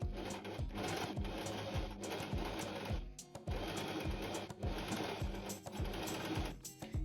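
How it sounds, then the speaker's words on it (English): A sewing machine stitches a seam on a summer top with a close, steady mechanical whir and rapid needle clatter, running in bursts with short pauses, no talking. "now I'm gonna sew along this line"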